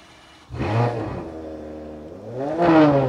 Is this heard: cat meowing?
no